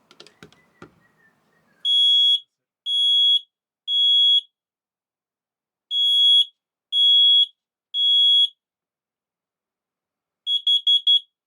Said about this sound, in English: The first bit was the fire detector, the second bit was monoxide, because it's a 2-in-1.